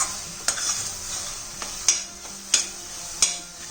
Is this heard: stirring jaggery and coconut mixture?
yes